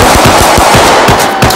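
Rapid automatic gunfire in the Roblox game, loud and close, with about ten sharp shots cracking in a quick regular burst that barely pauses.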